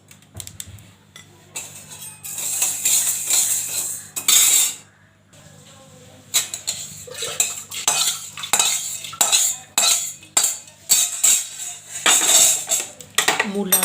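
Biuli dal, black gram lentils, being fried in a pan, with a spatula scraping and clattering against the metal in bursts of stirring and brief pauses.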